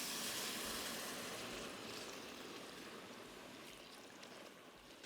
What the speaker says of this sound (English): Just let it simmer once.